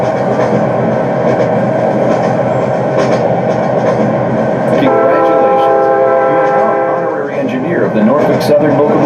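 Train rumble from a Norfolk Southern locomotive simulator exhibit, a steady loud roll with tonal horn-like lines entering midway, with speech over it.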